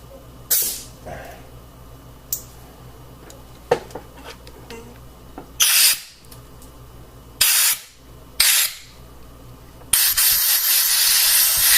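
Compressed air blasts off a BMW M54 engine block during head-bolt thread repair in a workshop, coming as several sharp, loud hissing bursts of varying length, with a sustained blast at the end and quiet clinks between.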